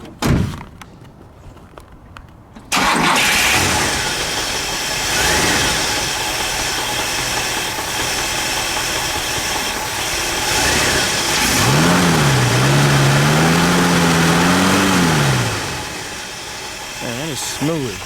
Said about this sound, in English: So let's fire this one up. We'll listen to the nailhead. We'll let it idle.